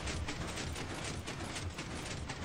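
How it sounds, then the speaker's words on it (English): A Minecraft piston, triggered by an observer in a tunnel bore machine, pulls back slime blocks, giving a dense, continuous mechanical clatter with rapid repeated pulses, close and steady throughout, with no voices. "So now the observer is activating the piston, which pulls back the slime blocks."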